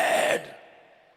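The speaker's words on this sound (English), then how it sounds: "I've just got some breathing in there" A single breath, a soft exhale or sigh, sits alone on a recorded vocal track for a black metal song and fades quickly into near silence.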